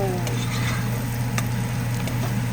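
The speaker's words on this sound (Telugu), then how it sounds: "ఎగ్స్ ఉంటాయి కదా, వాటిని ఒక 2 నిమిషాలు ఆయిల్లో వేసేసుకుందాం" Eggs fry in hot oil in a pan, a dense continuous sizzle heard up close and loud throughout, with a steady low hum beneath.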